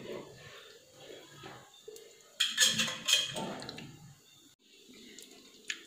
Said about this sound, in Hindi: हम दाने को अच्छे से चलाएंगे।